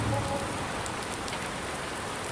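Steady rain in the farming game Farm Simulator, a constant even hiss of falling drops on surfaces, close and uniform with no talking.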